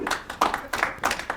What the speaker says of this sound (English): Clap for him, man.